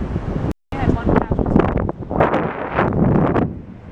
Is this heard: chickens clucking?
no